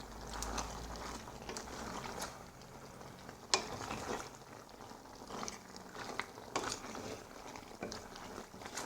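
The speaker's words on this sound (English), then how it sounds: "you keep stirring to see if it's sticking" Food being stirred in a pot on a stove while cooking a Thanksgiving meal, with scraping and clinking of the utensil against the pot in an irregular rhythm over a low background, close and fairly quiet.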